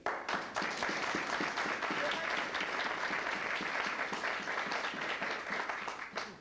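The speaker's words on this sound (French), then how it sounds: "Applaudissons pour le Seigneur." A church congregation applauds during a sermon, with brisk, steady clapping from many hands filling several seconds and tapering off at the end, with a few murmured voices underneath.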